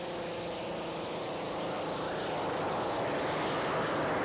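A racing hydroplane in the 225 cubic inch class roars continuously across a lake during a 1985 Syracuse heat, its engine a dense, steady, loud drone that swells slightly as it passes.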